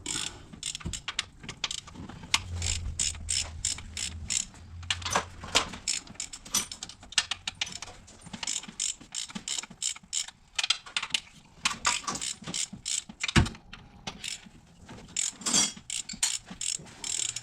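A ratchet loosens engine bolts on a 2004 Ford Escape 3.0 during head gasket work, making rapid, continuous clicking close up with quick back-and-forth strokes that run almost without a break.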